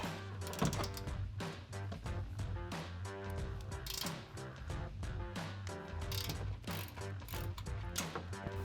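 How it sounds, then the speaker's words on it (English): A 21 mm ratcheting wrench works on control arm bolts of a RAM 1500, producing rapid, close metallic clicking in quick repeated bursts with brief pauses, with no talking. "now we can get in there with our 21 mil ratcheting wrench"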